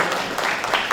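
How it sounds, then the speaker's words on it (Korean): Audience applause for a presenter at a Korean university innovation forum session, a steady dense wash of many hands clapping throughout, moderately loud and close, with no voices over it. "발표 주신 교수님께 다시 한번 박수 부탁드립니다."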